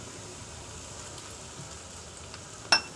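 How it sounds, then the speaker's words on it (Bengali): Fourteen kinds of leafy greens fry in oil in a pan, giving a faint, steady low sizzle throughout with one brief sharp clink or scrape near the end. "14 শাক ভাজা হয়ে গেছে দেখতে পাচ্ছ।"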